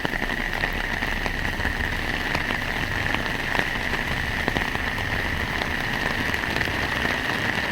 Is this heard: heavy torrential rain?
yes